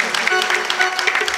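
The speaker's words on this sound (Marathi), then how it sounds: "जोरदार टाळ्या वाजवा साऊंड सिस्टीम साठी" Audience at a comic bharud folk performance clapping, a short burst of dense applause heard close and loud, with voices mixed in.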